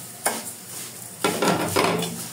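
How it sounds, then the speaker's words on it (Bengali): Rice tossed into a pan of browned onions with a little ginger sizzles and rustles under a few quick scraping stirs, each stroke bringing a short burst of frying noise, no voices. "এই যে এখন আমি দেবো চাল, দিয়ে ভাজবো"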